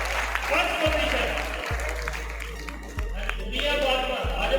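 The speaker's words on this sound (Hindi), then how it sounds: "भरपूर तालियां बेटी के लिए" Audience applause for a girl taking a prize at a children's handwriting and Quranic calligraphy competition, moderate clapping under an announcer's amplified voice, with a few low thumps from the microphone.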